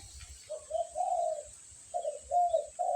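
A spotted dove coos in soft, low, rounded phrases: a couple of notes, a pause, then another short run of coos. There is faint background noise and no talking.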